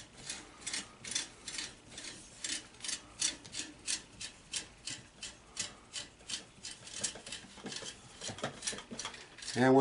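Rhythmic rasping, ratcheting clicks as a Nordic magazine extension is screwed by hand onto a Remington 870 shotgun's fine threads, a steady series of close, repeated turns.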